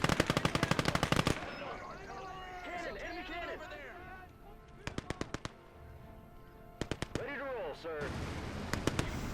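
Machine guns fire in Gates of Hell: Ostfront in loud rapid bursts, one long opening burst and then shorter clusters, with a person talking between the volleys.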